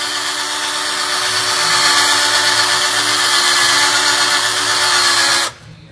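Electric drill running steadily with a polishing pad on a car headlight, a loud continuous whine with a droning hum beneath, holding constant for over five seconds before cutting off abruptly.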